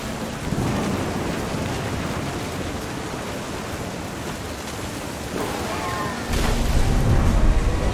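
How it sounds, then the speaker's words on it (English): Heavy rain hisses steadily throughout, with low thunder rumbling beneath and a louder surge near the end, a storm scene in the video game What Remains of Edith Finch. "The thunder sounded much too close and full of angry power."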